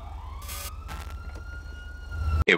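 Police sirens in the video game GTA Online, a rising wail over a low rumbling engine, fairly loud and alone, cut off abruptly near the end by a burst of noise.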